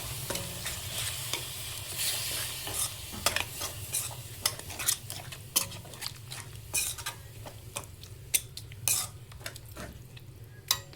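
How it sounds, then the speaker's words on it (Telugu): Yogurt is stirred into a simmering mutton keema mixture in a pot for a hotel-style dum biryani: a spoon scrapes and taps the pot in a busy, repeated rhythm over a low background sizzle. "దీంట్లో అరకప్పు పెరుగు వేసుకుంటున్నాను నేను మీగడతో వేసేసానండి. ఇది బాగా మిక్స్ చేసుకుందాం"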